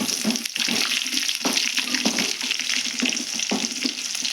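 Crushed garlic and tempering spices sizzle steadily in hot oil for garlic chutney, a continuous close frying hiss with light crackles and no talking.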